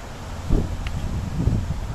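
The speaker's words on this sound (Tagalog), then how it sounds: "Ang lakas ng hangin." Gusty wind buffets the microphone in low rumbling bursts, with a steady breezy hiss behind it.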